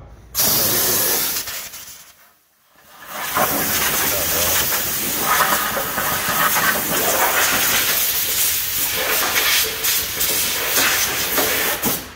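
A pressure machine sprays beneath a Tesla Model 3 during anti-rust treatment, a loud steady hiss that drops out briefly near the start, then resumes and runs on continuously with rattling mechanical texture.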